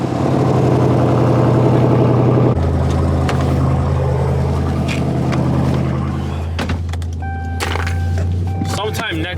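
A Chrysler 300 Redeye engine runs loud and close with a deep, steady drone that drops to a lower idle partway through, while a few sharp clicks and knocks sound near the end.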